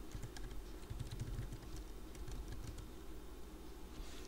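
Someone types a directory name into a command prompt on a computer keyboard: quick, irregular keystrokes heard close and fairly soft against a low background hum, with no voices.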